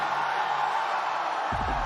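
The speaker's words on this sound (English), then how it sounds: "And you can hear the crowd." A large arena crowd at a VALORANT Masters Toronto esports playoff match roars in a continuous loud wash of cheering, with a low thump or voice entering near the end.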